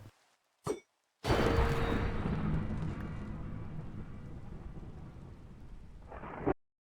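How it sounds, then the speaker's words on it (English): Minecraft thunderstorm: a couple of short cracks, then a loud thunder clap that rolls into steady rain noise, fading slowly before a final brief swell and cutoff. "we got ourselves a thunderstorm"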